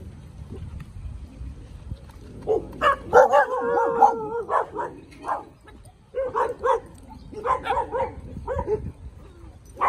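A dog named Baylor barks and yips repeatedly in short bursts close by, with a few whimpering sounds between.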